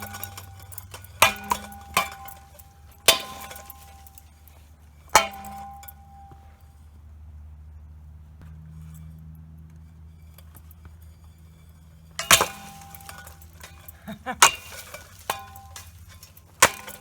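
Hampton Bay ceiling fan running as its blades break off, with a steady low motor hum broken by sharp clanks and clinking hits scattered through it.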